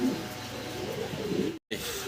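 Racer pigeons at a pigeon farm coo softly and continuously, faint and close, over a low background hum, with a brief dropout near the end.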